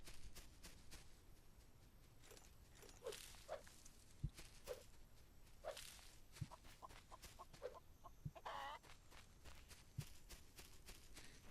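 Chickens cluck in a video game, giving faint, scattered short clucks and scratchy steps at low volume with no talk over them.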